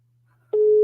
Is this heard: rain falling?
no